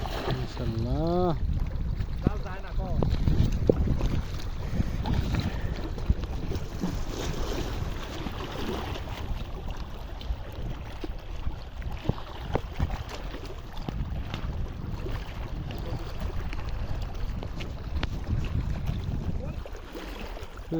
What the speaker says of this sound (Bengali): বাতাস, পানির প্রচুর স্রোত